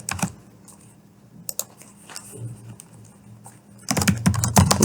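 Someone types on a computer keyboard, a quick patter of key clicks in a short burst, then a denser, louder run of keystrokes near the end, close and clear with no talk.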